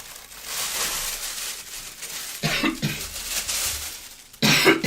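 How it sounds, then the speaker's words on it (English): Someone coughs in several harsh bursts close to the mic, with rough breathy noise between them and a heavier cough at the end. "Coughing now."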